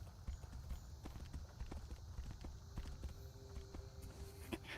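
Steady clip-clop of horse hooves walking at an even rhythm in the video game Tainted Grail: Fall of Avalon, close and moderately loud over a low rumbling background.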